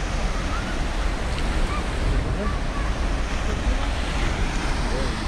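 A powerful, steady roar of water falling from a height of 120 metres on the Yenisei, broadband and unbroken like a big waterfall, with wind buffeting the microphone throughout.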